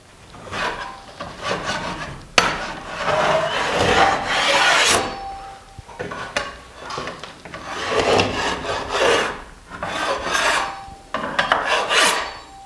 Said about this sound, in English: I'll just scrape it out with the knife.